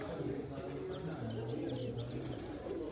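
Pigeons coo in low, rolling bursts close by, with a few faint chirps from other birds above.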